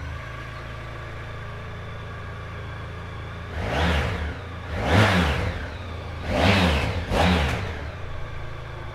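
A 2017 Honda VFR1200X Crosstourer V4 engine idles, then revs sharply four times in quick bursts, each rising and falling back to a steady idle, close by.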